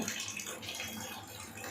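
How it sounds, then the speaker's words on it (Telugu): Water runs from the outlet of an Enagic Kangen water ionizer in a faint, steady, gentle stream that lasts the whole short stretch. "ఈ బటన్ ప్రెస్ చేసినప్పుడు మీకు ఇక్కడ నుంచి వెజిటబుల్ వాషింగ్ వాటర్ వస్తుంటే"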